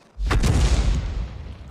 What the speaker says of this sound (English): Fires a round in.